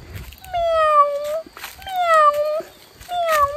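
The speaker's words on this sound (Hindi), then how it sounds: "चुन्नू को जब मैं दूध देता हूँ ना, बिल्कुल भी पेशेंस नहीं है इसके अंदर। म्याऊं म्याऊं" A house cat meows impatiently while waiting for milk: three drawn-out, falling meows, close and loud, with short pauses between them.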